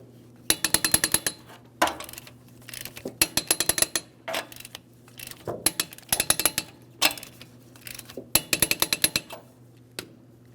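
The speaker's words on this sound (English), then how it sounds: "now I'm going to torque these to 76 foot-pounds in a crisscross manner" A torque wrench tightens the wheel lug nuts on a 2003-2008 Toyota Matrix to 76 foot-pounds in a crisscross pattern, giving close, crisp bursts of rapid ratchet clicks separated by short pauses, about eight bursts in all, with no voices.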